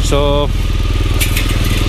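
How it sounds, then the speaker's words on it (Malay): A motorcycle engine idles while warming up, a steady low rumble close by, with a brief voice speaking over it at the start. "So boleh panaskan enjin sikit lah."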